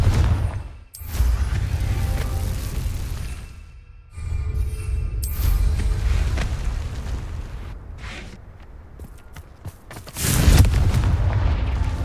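Confringo fire spell blasts in the Hogwarts Legacy video game, several booming explosions with rumbling low bursts and crackling debris, loud and close amid ongoing game combat noise.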